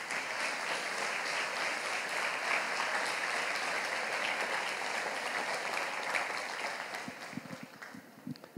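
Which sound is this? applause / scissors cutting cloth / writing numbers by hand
applause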